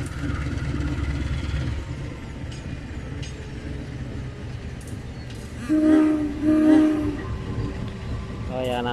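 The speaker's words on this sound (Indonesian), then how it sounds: "Nah, ini keretanya sudah datang ya guys" Passenger train pulling into Yogyakarta's main station, a steady low rumble of rolling cars throughout, with two loud blasts of a slightly hoarse horn near the end; a voice speaks faintly in the background.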